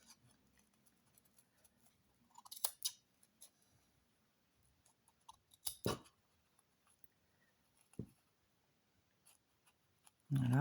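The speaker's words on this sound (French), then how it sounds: "on va éviter de couper ce qu'il ne faut pas couper" Faint, sparse snips of scissors cutting yarn on a crocheted Christmas angel, a few sharp isolated clicks spread out over quiet background, with a louder rustle at the end.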